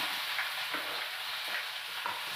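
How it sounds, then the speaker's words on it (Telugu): Green chilies and onions hitting hot oil, giving a dense, even hiss of frying with faint soft knocks from stirring, close and steady across a couple of seconds. "ఆయిల్ మరిగిపోయింది కదా, ఇప్పుడు పచ్చిమిర్చి ఉల్లిపాయలు వేసేస్తాను."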